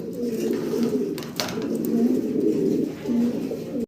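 A pair of large blue bar German Beauty Homer pigeons cooing at close range in a farm loft, soft repeated throaty coos with a brief flutter partway through, and a voice faintly underneath.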